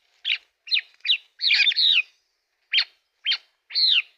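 A white-headed bird calls nearby in the open, a series of short, clear, high chirps and whistled notes in uneven bursts with silent gaps between them.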